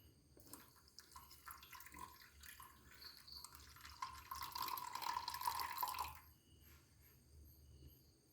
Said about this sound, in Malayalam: നമ്മൾ ഇനി ചൂട് വെള്ളം ഒഴിക്കാൻ പോവുകയാണ്